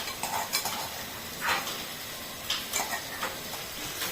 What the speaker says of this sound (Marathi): हा जे मिरच्या मी लसण आणि मिरच्या कुटल्या ते आता टाकतोय